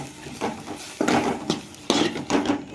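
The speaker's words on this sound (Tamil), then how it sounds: "இந்த காயை வந்து நசுக்கி எடுத்துக்கிட்டு அந்த விதையெல்லாம் எடுத்துடணும்" Green turkey berries (sundakkai) are crushed for kuzhambu with a few sharp, close knocks and taps spaced roughly half a second apart, against a quiet kitchen background without talk.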